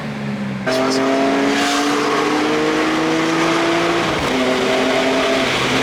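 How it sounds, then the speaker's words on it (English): A BMW E46 M3 with an SMG transmission blips its engine in quick rev-matched downshifts, the revs dropping and snapping back between gears. The note is loud and close, with a dip in pitch near the end before it climbs again. "That was actually a pretty good rev match"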